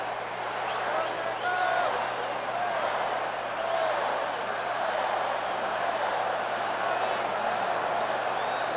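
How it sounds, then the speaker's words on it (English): A packed Houston Astros baseball stadium crowd at a 1980 playoff game: a steady, loud wash of noise with shouting and whistles, sustained without a break. "The crowd isn't giving him any relief, are they? Oh, this is awful noisy."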